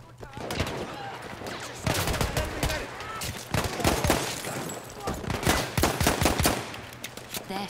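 Dense gunfire in the video game Battlefield 1, a team deathmatch in the Argonne Forest, with rapid machine-gun bursts and overlapping shots crackling almost nonstop, loud and close.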